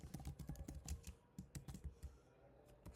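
Keys clatter on a computer keyboard while HTML form code is typed, a quick uneven run of close, crisp clicks with short pauses and no voices.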